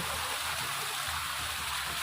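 Spring water flowing steadily from a mountain spring, a continuous broadband rush and gurgle that stays even and fairly close throughout, with no voices.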